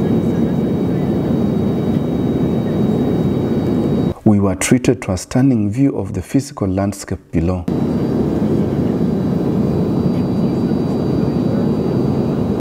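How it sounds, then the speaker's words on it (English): Steady airplane cabin drone during a short flight from Philadelphia to Harrisburg, the plane having climbed above the clouds; the loud, constant engine roar runs throughout, briefly dropping under a few seconds of spoken narration in the middle. "Eventually, the plane emerged above the clouds."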